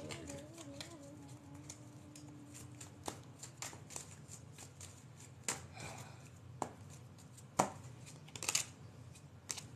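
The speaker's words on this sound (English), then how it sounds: "We cut the deck. We clear it." Soft riffling and snapping of a tarot deck being shuffled, with scattered crisp flicks and taps, close by and quiet, no talking.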